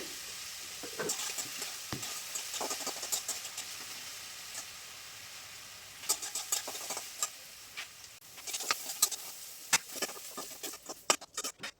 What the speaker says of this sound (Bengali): এদিকে সাদা তেল আর ঘি দিয়ে মানে গাজর বিনস ক্যাপসিকাম মটরশুঁটি এগুলো ভেজে নেবো